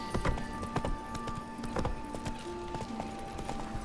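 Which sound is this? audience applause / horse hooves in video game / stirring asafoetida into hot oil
horse hooves in video game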